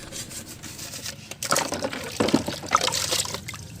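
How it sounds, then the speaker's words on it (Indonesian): Water splashes and trickles over a small plastic part from a discarded radio-controlled car during soapy cleaning, a moderate, uneven rinse with bursts of spatter after a quiet start. "Habis itu baru kita bilas."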